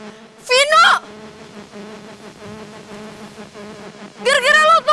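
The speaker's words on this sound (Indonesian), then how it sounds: "Mana tawon?" A wasp hums as a low, steady buzz through the middle, while loud excited voices cry out at the start and again at the end.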